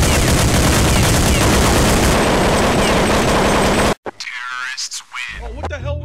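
Dense, loud gunfire from a Counter-Strike match fills the first four seconds as a continuous burst, then cuts off abruptly, followed by a voice talking over quieter game sound.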